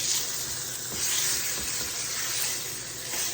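Sage pork chops sizzle steadily in butter and pan drippings, a continuous close frying hiss with soft crackle, no voices.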